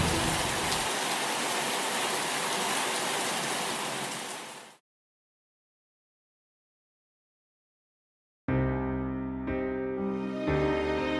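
Steady, dense rainfall pours down in a broad even wash for several seconds, then cuts to silence before unrelated musical sound begins.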